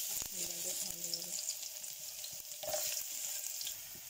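Garlic fries in hot oil on a cooker for a Bengali tomato and prawn dish, a soft continuous sizzle with a few utensil knocks and a brief hum near the start.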